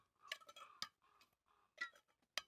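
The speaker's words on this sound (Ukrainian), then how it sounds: "Тепер накриваємо кришками" Several light metallic clinks and taps, spaced irregularly, as lids are set down on glass jars of marinated zucchini close by in a quiet room.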